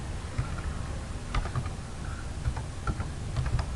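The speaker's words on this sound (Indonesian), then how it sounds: "kemudian kita ketikkan lagi dokumen nomornya" Document number typed on a computer keyboard, heard as faint, scattered key taps in short uneven bursts over a steady room hiss.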